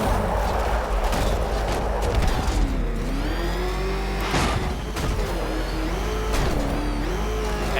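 Batmobile engine in the Batman Arkham Knight video game, a continuous car engine drone with rising and falling revs and whining pitch sweeps, mechanical clatter and occasional bursts underneath, fairly loud with no talking.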